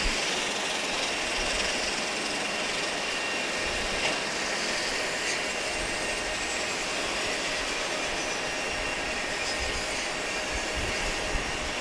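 A Boeing 757 jet airliner at Grand Cayman's airport gives off a steady, broad jet-engine roar and whine from some distance, constant throughout with no talk.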